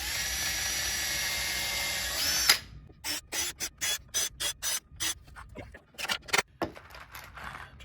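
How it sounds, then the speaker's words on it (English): A power drill bores pilot holes in cedar boards for a simple wooden planter box: a continuous high whine for about two and a half seconds, then a run of short, sharp on-off bursts separated by near silence. "I'm gonna go get my drill and drill some pilot holes"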